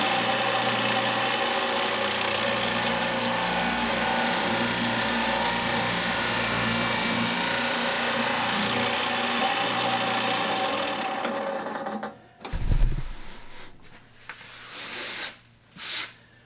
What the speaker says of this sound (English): Alright guys, we're going to drill the second side.